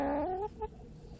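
A hen with an injured leg clucks outside the coop in a short, close vocal call that bends upward and then trails off. The call is soft and heard alone, with no talking.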